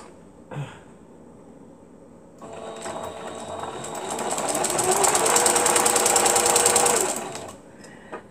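A sewing machine stitches the pages of a small handmade book, running in a steady, close, buzzing chatter for about five seconds and rising in intensity midway before stopping. A brief knock comes earlier.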